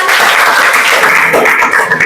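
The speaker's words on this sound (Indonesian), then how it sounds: "mari kita tepuk tangan." A class of schoolchildren clapping together, loud and close, a dense burst of hand claps with some voices mixed in, lasting a couple of seconds.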